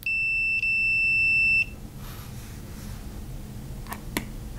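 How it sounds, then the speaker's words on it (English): Multimeter set to continuity gives a sharp electronic beep as its two leads touch, a brief blip followed by a longer steady tone, then quiet handling clicks. "We'll use a multimeter for this test. I have it set for continuity, and when the two leads touch, they make a sound."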